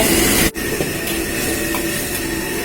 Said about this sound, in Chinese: 下入啤酒去腥增香，啤酒下锅，再烧制个5分钟。